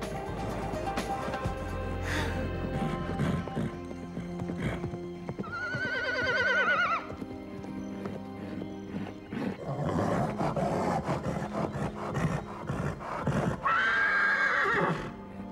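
A restless horse in a stable neighs and whinnies loudly twice, high shaky calls rising above a busy backdrop of music and clattering hoof sounds, with no talking.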